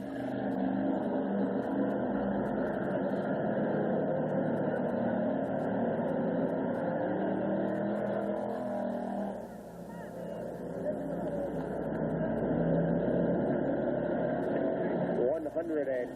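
Race cars roar past during an enduro race at Orange County Speedway, a loud sustained engine drone that dips briefly and then swells again. A commentator talks over the noise throughout.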